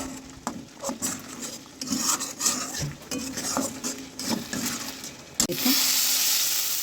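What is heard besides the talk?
stirring and frying potato and pointed gourd curry in a pan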